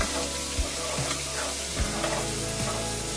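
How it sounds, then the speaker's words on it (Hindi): A spoonful of ginger garlic paste fries in a pan over low heat, a constant close sizzle broken by a few soft stirring knocks, with no talking. "अदरक और लहसुन का पेस्ट 1 चम्मच लिया हमने। इसको ब्राउन करेंगे"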